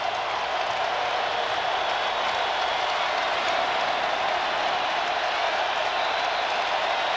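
Steady, roaring crowd noise from a stadium of nearly 75,000 at a 2004 Tennessee vs Auburn college football game, a constant wash of cheering and clapping with no breaks.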